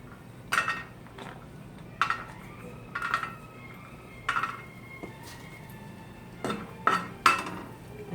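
Peanuts roasting in a pan while a metal spoon stirs them, giving a series of distinct scraping clinks spaced roughly a second apart over a quiet background.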